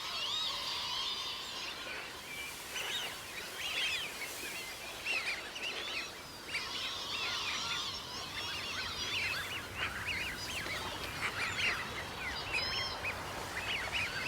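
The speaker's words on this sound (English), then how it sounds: "Groups of lapwings and Eurasian widgeons have gathered." A dense flock of lapwings and Eurasian wigeon calling together on wintering lowland marshes in a river delta, with overlapping whistles and chatter forming a steady, busy wall of bird sound throughout.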